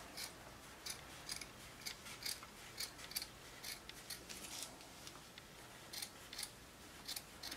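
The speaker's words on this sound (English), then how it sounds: "I'm going to cut it to be about a half inch or so" Scissors snip through a strip of craft felt, cut lengthwise to about half an inch wide for a styrofoam snowman craft; a steady run of soft, crisp snips, close and quiet, with no talk.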